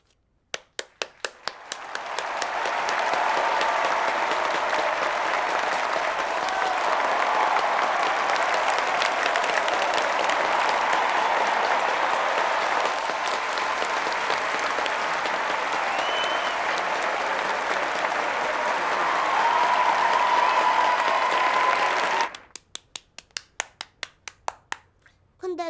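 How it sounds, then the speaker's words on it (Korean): Sustained audience applause at the opening of a short film festival, many hands clapping together in a dense, loud wash that builds within a couple of seconds, holds steadily, then breaks into scattered individual claps as it dies away. "박수는 이럴 때 치는 거야."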